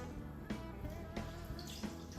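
Homemade cashew milk poured carefully into a blender, a soft steady liquid stream with small splashy pulses, faint and close, with no talking.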